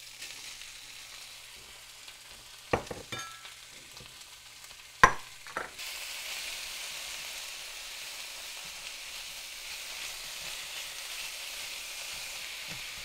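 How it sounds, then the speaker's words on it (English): Sausage and ham browning in a pan for black-eyed peas, giving a low, steady sizzle that swells into a brighter, denser frying hiss partway through, with a few sharp clinks or scrapes before it settles. "I just want to go ahead and brown up this sausage, and I also want to brown the ham."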